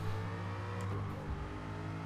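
A race car engine in a racing video game, driven on the reverse layout at Brands Hatch, drones steadily and builds as it accelerates out of a corner, a continuous mid-pitched whine under mild background noise.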